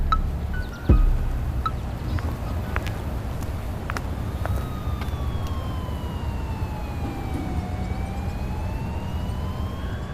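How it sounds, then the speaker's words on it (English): Police siren wailing steadily in the distance, its pitch gliding slowly up and down over a constant low rumble of traffic and street noise, with a brief thump near the start. "I think the police siren is very interesting"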